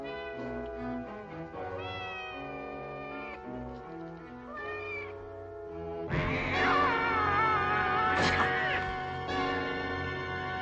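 Two cats meow in a film scene, with long drawn-out cries and caterwauling that grow louder and more intense partway through over a steady background.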